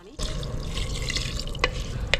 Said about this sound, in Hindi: चावल हमारा भून गया है और बासमती चावल के नाप से हम पानी डालेंगे